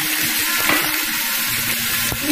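Chicken pieces frying in hot coconut oil in a pan, giving a continuous bright sizzle and crackle with a few stirring knocks, close and steady, no talk.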